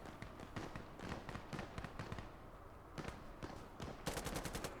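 Rapid gunfire in the video game Insurgency Sandstorm: fast automatic bursts and scattered single shots at moderate distance, growing denser and sharper near the end, with no talk.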